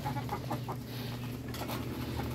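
A hen clucks in a short run of close, soft calls over a steady low background hum.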